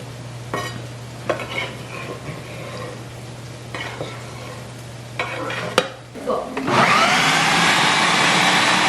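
Food is stirred and sautéed in a pan for Pakistani lamb chops. Scattered scrapes and clinks come first over a low hum, then a loud, steady sizzle takes over near the end.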